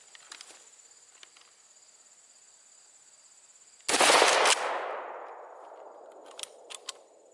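A single loud blast from a Kel-Tec KSG 12 pump shotgun firing 00 buckshot at an outdoor range, the sharp report trailing off into a long fading echo over a faint background hum.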